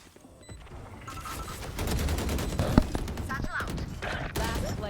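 Rapid gunfire bursts in a competitive shooter esports match at a high school championship, dense overlapping shots with a sharp crack near the middle, under excited commentator talk.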